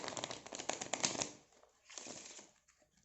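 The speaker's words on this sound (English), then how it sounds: "I will just give a deck a quick refresh shuffle" A deck of playing cards gets a quick riffle shuffle during a card trick, a brief burst of dense crisp flutter that fades into softer rustling, close and fairly quiet.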